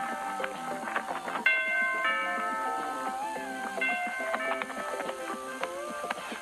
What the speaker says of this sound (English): try ringing each of these doors' doorbells